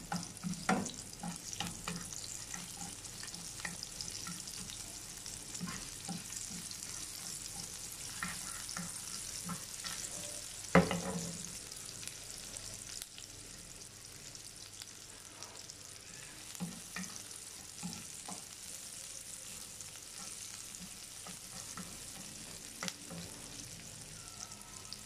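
Onion frying in a pan, stirred now and then: steady close sizzle and crackle across the whole stretch, with scraping stir strokes and one sharp clatter near the middle.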